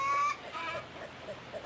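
Chickens at an Arkansas homestead cluck in short, quiet bursts, with a louder call at the start and soft outdoor background.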